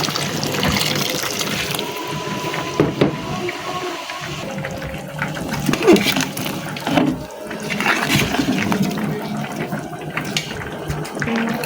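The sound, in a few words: hot water poured into pot of pigeon meat and potatoes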